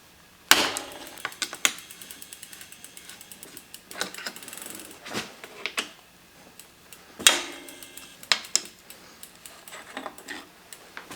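A ratchet tool removes the pedals from a Specialized S-Works bicycle, producing quiet runs of rapid ticking clicks broken by several sharper metallic clanks and knocks nearby.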